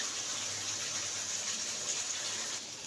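Water pours steadily into a cooking pot with an even, hissing gush for about three seconds. It is close and uninterrupted, with no voices.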